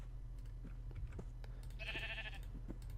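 A single Minecraft sheep bleat, short and clear, rises over a low steady hum and scattered keyboard clicks in the middle of the stretch.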